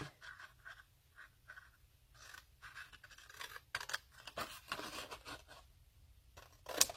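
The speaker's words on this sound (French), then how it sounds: "Donc, je vais prendre mon ciseau. Je vais couper ici." Scissors snipping paper for a flip-book craft, a series of quiet crisp cuts and rustles in an otherwise quiet room, a sharper snip near the end.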